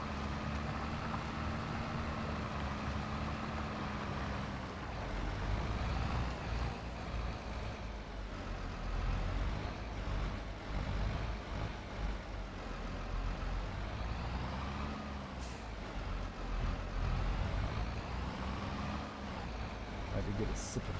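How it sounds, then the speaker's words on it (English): A tractor engine drones loudly and steadily while the machine drives and turns on a farm, with a person talking over the constant rumble. "I was one hand driving my tractor"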